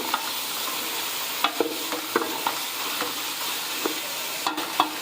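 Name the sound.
meat frying and being stirred in a pot for nihari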